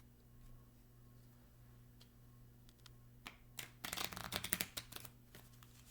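A spectator riffles and shuffles a deck of playing cards in quick, crisp bursts of flutter and snapping, building to a dense cluster of riffles near the end over a low steady hum; no one talks.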